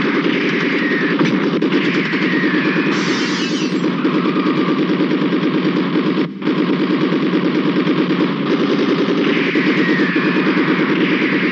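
Machine gun fire from a Kannada action film rattles on as a dense, continuous, loud burst, with only brief pauses across the stretch.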